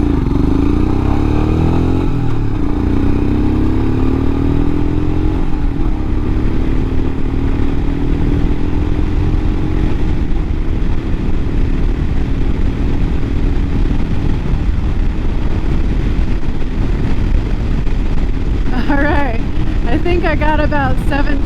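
Royal Enfield Himalayan motorcycle accelerating from 0 to 60, a steady close engine drone rising slowly in pitch over about twenty seconds, with wind rumble throughout and a few brief higher tones near the end.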